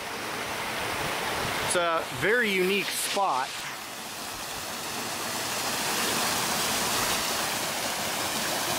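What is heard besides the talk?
river flowing in a canyon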